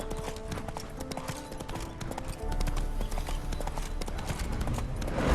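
Horse hooves clip-clop steadily in The Witcher 3 video game, a quick rhythmic trot that continues throughout and grows somewhat louder in the second half, with no talk over it.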